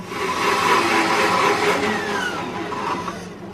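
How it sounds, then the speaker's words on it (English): A blender blending pasta water whirs loudly and continuously close by, its motor pitch shifting slightly before easing off at the end. "put it in your blender, and blend it"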